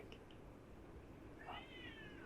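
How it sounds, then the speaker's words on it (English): A house cat gives a short, faint meow indoors on a rainy day, a brief rising cry heard over a steady low hiss. "my cat's crying"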